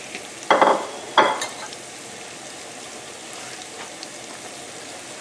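Shrimp frying in a pan for a garlic linguine dish, a faint continuous sizzle with two sharp, loud bursts of spattering or stirring near the start, heard close with no talk.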